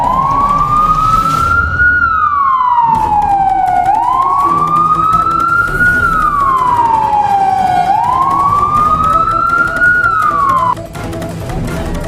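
Police car siren wailing loudly and close, rising and falling in slow repeated sweeps over a low background rumble before cutting off near the end.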